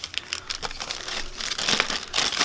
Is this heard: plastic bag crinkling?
yes